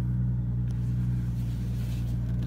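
A 2017 BMW M240 settles into a steady low engine hum after a push-button start, heard evenly from inside the car at moderate level, without speech.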